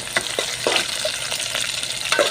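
Garlic frying in oil in a pan, a steady close sizzle broken by a few soft stirring scrapes, with no voices.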